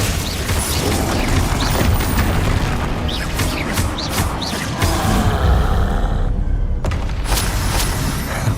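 Spell explosions in the video game Hogwarts Legacy, a dense, loud barrage of booms, crashes and magical whooshes packed one after another, with a brief lull near the end.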